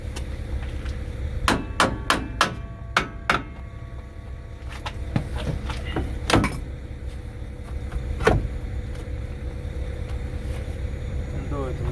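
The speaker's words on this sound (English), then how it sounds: "Use the hammer to set the brake shoes in place." Sharp metallic hammer blows ring out in a quick burst of several strikes, setting brake shoes into place on a 2018 Utility 3000R semi trailer, followed by a few more scattered hits over low background noise.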